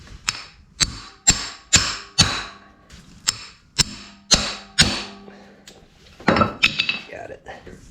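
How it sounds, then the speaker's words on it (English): Impact wrench hammering loose two tapered stator screws during motorcycle engine teardown, a series of about ten sharp, close metallic bursts in a steady rhythm, then a brief clatter of handling. "We've got 2 screws here, so we'll take our impact and get those off"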